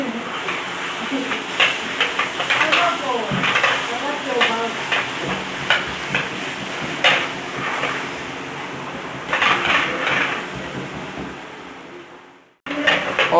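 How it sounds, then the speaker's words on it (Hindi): Green chillies sautéing and frying over a high flame, a steady loud sizzle with repeated scraping and stirring strokes throughout, cut off near the end. "आपने इसको जो है हाई फ्लेम पे सौते करना है और इसको भूनते जाना है कंटिन्यू"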